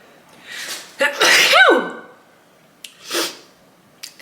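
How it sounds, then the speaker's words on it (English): A close, loud sneeze with a sharp explosive burst, preceded by a sharp intake of breath and followed by a few breathy sniffs. "I'm gonna sneeze."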